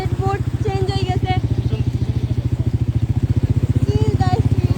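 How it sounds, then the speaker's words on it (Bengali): A motorbike engine chugs through floodwater in Dharmanagar, a steady rapid putt-putt exhaust pulse running close and loud throughout, with a voice talking over it. "সমুদ্র স্পিড বোটের মতো বটবটি করছে আমার বাইকটা"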